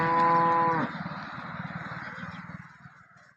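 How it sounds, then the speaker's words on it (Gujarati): Local Banaskantha cow giving a single loud, close moo that fades into a low, pulsing groan and breathy tail. "અહીંયા બનાસકાંઠાની લોકલ ગાય છે"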